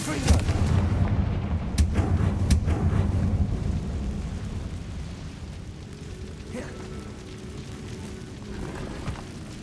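Bombarda blasting spell in the Hogwarts Legacy video game, a heavy booming explosion with sharp cracks and rumbling debris that decays into a lingering low roar, with a voice speaking over it.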